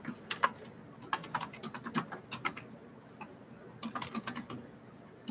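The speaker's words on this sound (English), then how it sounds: "I'm gonna type in the Latin name again." Keys on a computer keyboard tapped in irregular bursts of quick clicks with short pauses between them, close and fairly quiet, no talking over it.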